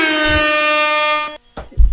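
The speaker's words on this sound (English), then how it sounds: "That deserves an air horn." A loud, sustained air horn blast holds for over a second, then cuts off, followed by a short thump and some low rumbling noise.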